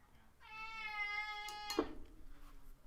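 A house cat lets out a single long, clear meow lasting over a second, close and fairly loud against a quiet room, followed by a brief bump and soft noise.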